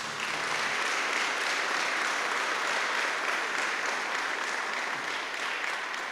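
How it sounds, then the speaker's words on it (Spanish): A church congregation gives a strong round of applause to the Lord Jesus, a sustained, dense wash of clapping that stays loud and even throughout with no talking. "Damos un fuerte aplauso al Señor Jesús."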